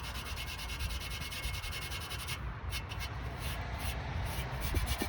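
Continuous close scrubbing of surface rust off cast iron cookware, a rough, steady rasping with fast, even back-and-forth strokes and no talking.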